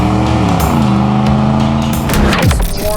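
A 1988 Chevrolet Camaro IROC-Z with a TPI 350 V8 and T-tops, 30,000 miles, on a warm Texas test drive: a steady loud engine note with road noise, then the pitch slides down as it slows.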